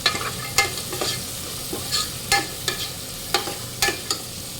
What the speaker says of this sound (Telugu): కొంచెం ఆనియన్స్ వేగిన తర్వాత టమాటాలు వేద్దాం. ఇందులో జీడిపప్పు వేసుకుందాం.